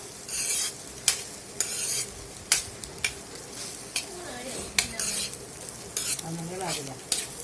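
A spoon scrapes and stirs a rice mixture in a frying pan in repeated close strokes roughly every second, over a soft steady sizzle.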